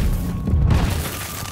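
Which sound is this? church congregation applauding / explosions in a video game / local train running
explosions in a video game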